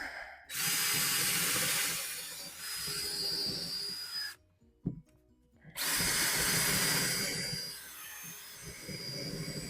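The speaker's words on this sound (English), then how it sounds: "So I'm going to drill that out." Power drill boring a hole in a homemade wheelbarrow with a plastic tub, two long steady whining runs close to the mic separated by a brief stop and a small knock.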